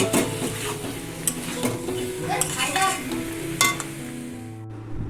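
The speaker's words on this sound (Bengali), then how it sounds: "পটল চিংড়িটা এখনও কড়াইতে ফুটছে" Pointed gourd and prawn curry cooks in a wok with a steady sizzling hiss, broken by scraping stirs and sharp metallic clinks of a spatula against the pan, close and moderately loud, with no talking.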